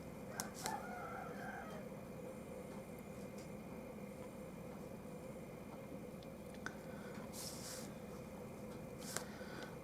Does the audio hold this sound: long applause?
no